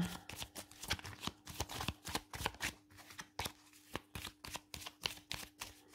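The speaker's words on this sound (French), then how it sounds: "je vais reprendre toutes mes cartes et puis je les remélange" A deck of tarot cards being shuffled by hand, a close, crisp riffling with rapid rhythmic flutters and soft slaps repeating steadily throughout.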